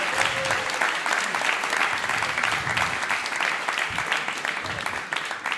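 Audience applause at a stand-up comedy show, a steady, dense wash of clapping from a crowd that holds throughout.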